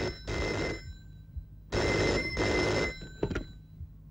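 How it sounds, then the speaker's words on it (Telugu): An indoor telephone bell rings twice in loud, buzzing bursts, then gives a short, clipped third ring. No voices are heard. "వివేక్ ఫోన్ అండి."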